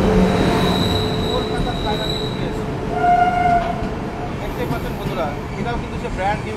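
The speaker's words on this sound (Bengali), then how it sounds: "Kolkata Sairang express first commercial run Baharampur court rail স্টেশনে ঢুকছে এই মুহূর্তে" Kolkata–Sairang Express on its first commercial run pulling into Berhampore Court railway station, with steady rolling rumble, metallic wheel squeal and a brief high screech midway, loud and close, with people talking nearby.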